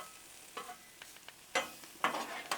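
Shrimp cooking and being stirred on a Blackstone griddle, with a low steady sizzle broken by a few sharp scraping bursts from the spatula, close and fairly quiet, with no talking.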